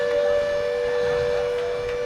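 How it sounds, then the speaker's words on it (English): A goal siren wails at a high school hockey exhibition game, a loud sustained steady tone filling the rink without talk over it. "Have you heard of a goal siren?"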